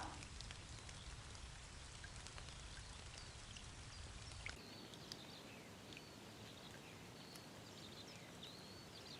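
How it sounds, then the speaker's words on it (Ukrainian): Steady rainfall patters continuously on a surface, with fine droplet ticks throughout; the tone shifts midway but the rain never lets up. "Паде дощ."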